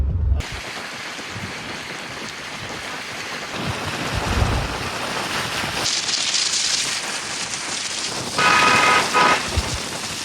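Rain falling on a riverbank, a steady broad wash of drops with wind, swelling in bursts and joined near the end by a louder hissing spell, with no talking.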